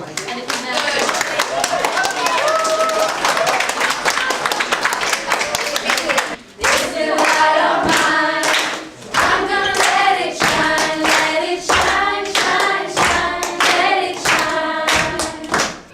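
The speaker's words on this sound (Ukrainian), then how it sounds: "зустрічайте нас суперськими аплодисментами." Children clap and applaud at a small charity celebration in Chernihiv, loud rhythmic clapping mixed with voices, briefly dipping and then resuming in strong repeated bursts.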